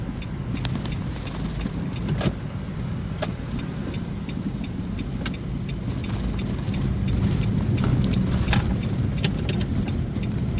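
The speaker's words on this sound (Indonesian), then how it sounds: "Nah, ini mobil yang dikendarai Bapak Bupati tadi." The Sukabumi regent's car produces steady road and engine noise for about ten seconds, a constant low rumble with scattered sharp ticks that grows slightly louder toward the end.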